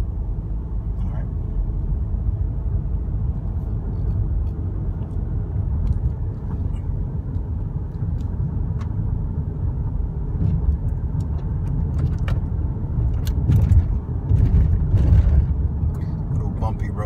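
Lamborghini Aventador LP700-4 engine accelerating: a steady, heavy low rumble holds throughout and swells slightly louder toward the end, with faint higher clicks and noises scattered above it.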